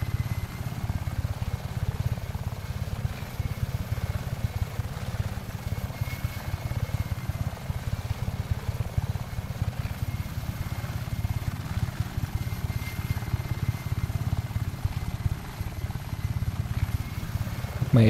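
A helicopter in the video game Just Cause 3 drones with a continuous low rotor and engine rumble, steady and unbroken throughout, fairly close with no clear voices over it.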